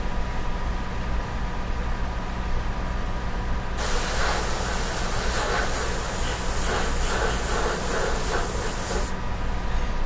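Airbrush spraying paint on a sepia portrait: a steady airy hiss switches on partway through, runs for about five seconds with slight pulsing, then stops over a low background hum.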